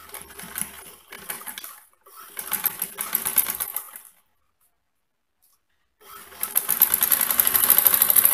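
Sewing machine stitching fabric for a hand sanitizer holder, running in three loud bursts with short pauses and a silent gap before a final sustained run.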